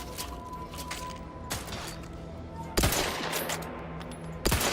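Gunshots at a shooting range in The Outer Worlds 2: three sharp, loud reports spaced a second or more apart over low background ambience, with no talk.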